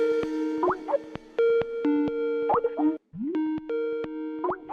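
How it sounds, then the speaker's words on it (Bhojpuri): A phone rings with an incoming video call, sounding a repeating electronic ringtone of steady tones and short rising chirps in regular bursts, with a brief gap before the pattern restarts. "शीतल जी के फोन वीडियो कॉल कर रहल बड़े"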